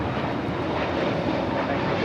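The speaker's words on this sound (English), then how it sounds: "Next flight's taking off here on the south side. Flight 224 heading to JFK. It's an A321neo." An Airbus A321neo takes off from the south side at Los Angeles airport, a steady broadband jet roar heard at a distance throughout the short stretch.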